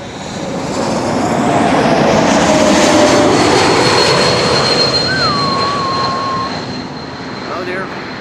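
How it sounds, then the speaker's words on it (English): An Embraer 195 E2 jet arriving at Amsterdam Schiphol from Brussels, a loud, steady engine roar swelling and holding for several seconds, with a thin high whine on top and a bird chirping briefly. "E2 Embraer 195 arriving from Brussels"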